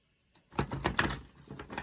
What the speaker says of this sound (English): Let's give it one more shuffle.